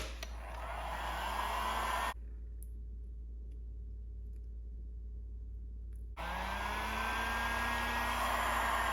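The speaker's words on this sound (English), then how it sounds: "I'm just gonna go ahead and put some heat shrink around the blue one too, just to close it off." A heat gun blows with a steady whooshing hum while shrinking heat shrink tubing on motorcycle turn signal wires. The sound drops to a quieter tone for several seconds mid-clip, then returns at full strength.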